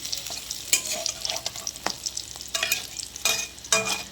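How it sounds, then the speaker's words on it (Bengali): Fish roe frying in a pan and being flipped, bursts of loud crackling sizzle with quick scrapes and clatters of the spatula as it is turned, close up and without speech. "আমার মাছের ডিমের এক সাইডটা প্রায় ভাজা হয়ে গেছে, আমি ওটা উল্টে নেব আর এক সাইডটা ভাজার জন্য"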